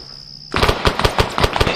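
Light machine gun fire in Arma 3 erupts after a brief tone, a loud close burst of rapid, evenly spaced shots that keeps going to the end.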